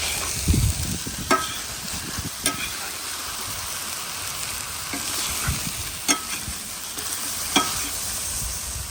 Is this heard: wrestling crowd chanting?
no